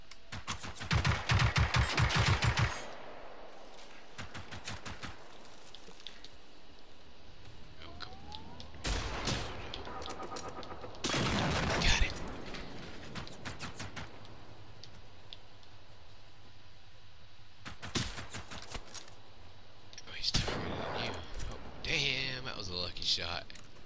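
Bursts of rapid gunfire erupt in Generation Zero, several separate volleys spread across the stretch, loud and close, with quieter ticking game sounds and people talking in between.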